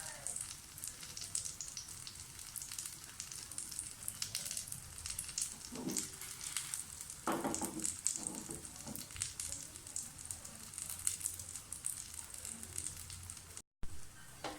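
A wheat pancake with eggs and vegetables cooks in a pan over a low flame, giving a steady, soft sizzle and crackle that runs unbroken throughout, with a few slightly louder pops.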